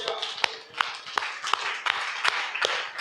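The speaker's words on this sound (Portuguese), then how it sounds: "salva de palmas" Audience applause during a church service: a steady run of sharp, fairly close hand claps keeping a rough rhythm under a wash of softer clapping and some voices.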